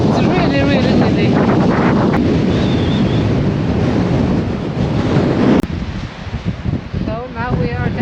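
Loud, gusting wind batters the microphone at the tip of Skagen, Denmark. The roar is heavy at first, then briefly drops and flutters, and muffled talk sits beneath it.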